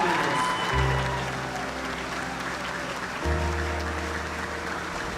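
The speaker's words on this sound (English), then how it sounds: "Let's give one more big round of applause for all of our youth top 10 winners." Audience applause for youth winners of a gingerbread competition, a steady wash of clapping across the room with low tonal hum beneath, swelling slightly near the end.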